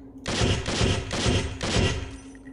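Four short, controlled bursts of rapid gunfire ring out in the SWAT 4 video game, loud and close, each burst separated by a brief gap.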